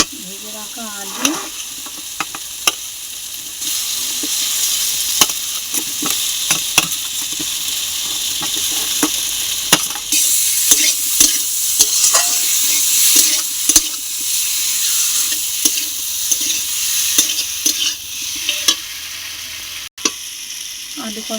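Potatoes fry in hot oil in a pan, a continuous sizzle and hiss punctuated by frequent scraping and clacking stirs of a spatula, close and fairly loud throughout.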